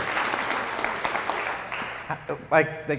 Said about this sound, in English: A round of applause for that group.